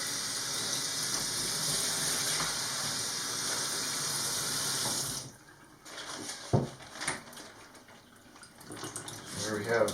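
Running water rinses a LINT LUV-R lint filter into a bag, a steady gushing flow for about five seconds, then it stops, giving way to quieter dripping, handling clatter and a brief voice.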